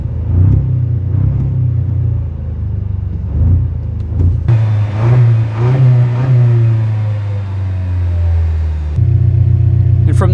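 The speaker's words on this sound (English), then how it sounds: "It definitely sounds deep and beefy, but again, you're hearing a deep and beefy 4-cylinder." A 2025 Toyota Tacoma TRD Pro's 4-cylinder engine revs up several times, deep and rumbling, with rising surges over a steady idle, close and loud, ending in a sustained higher idle.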